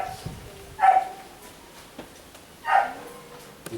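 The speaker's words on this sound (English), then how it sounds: "The dogs." Two short dog barks or yips, a little distant, spaced about two seconds apart against a quiet background.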